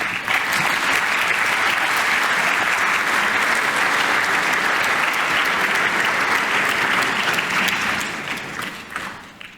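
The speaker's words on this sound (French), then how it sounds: "sous vos applaudissements et la bande son" A conference audience applauds to welcome the director general of maritime affairs, fisheries and aquaculture as he takes the floor. The thick, sustained ovation from many people holds steady for several seconds, then thins and tapers off.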